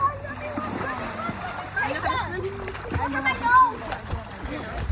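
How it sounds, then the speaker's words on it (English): A child runs and splashes in a pool, and the water sloshes steadily while children's voices chatter and call out over it. "I'm running in the pool"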